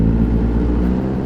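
Kawasaki ZX-10R 2021 sport motorcycle fitted with an Austin Racing exhaust, a loud, steady, deep engine drone held close and continuous with no break.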